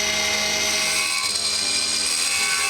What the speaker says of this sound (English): I use everything from a tiny little micro drill